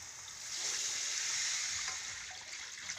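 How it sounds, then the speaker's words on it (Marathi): Water pours into a cooking pot for a curry broth for shengole, a steady soft rush that swells, holds for a couple of seconds and then eases, fairly faint. "आता आपण पाणी टाकून घेणार आहोत।"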